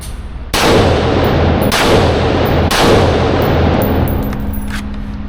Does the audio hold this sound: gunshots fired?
yes